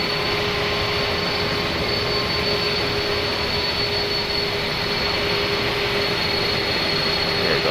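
Airbus A310 jet engines in a flight simulator game give a loud, steady, unbroken roar with a constant whine on top, continuous throughout with no speech.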